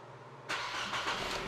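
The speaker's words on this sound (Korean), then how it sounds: "아 엔진 소리는 끝내주네요" After a brief quiet moment, the engine of an LPG-fuelled mid-size sedan with about 105,900 km turns over and catches, settling into a steady, close idle.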